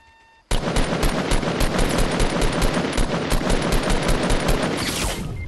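Loud, close automatic gunfire from a shooter video game rips out in a continuous rapid burst lasting about five seconds after a sudden start, with no talking over it.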